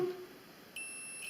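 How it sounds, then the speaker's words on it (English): A conductivity tester sounds a short electronic beep as its probes touch a carbon drone frame arm: a faint tone at the start, then a steady, brighter high-pitched beep that holds through to the end, with no talking. "You can hear the beep"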